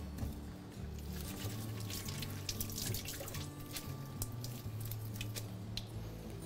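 Tap water runs steadily into a kitchen sink while hands wash under it during preparation of basturma, with soft splashes and drips close by and no talking.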